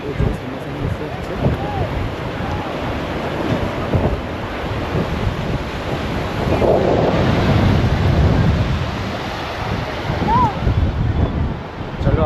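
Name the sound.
sea waves on the beach at Puri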